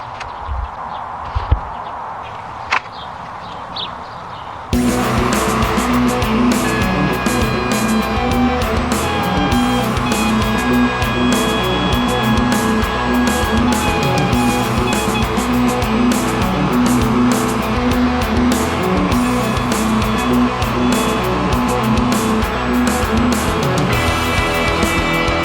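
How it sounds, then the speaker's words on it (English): A hand router cuts around a template edge on a carved guitar top for a small travel-size PRS-style build. After a quiet start the loud, steady whine kicks in near five seconds and runs continuously with no talking. "we'll just be using router to go around the edge of it"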